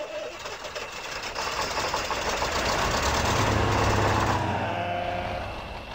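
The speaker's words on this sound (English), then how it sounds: "Start your engine, sir." A truck engine in the video game Spintires starts and runs, a rough rising rumble with a steady whine that swells and then eases, alone without talk.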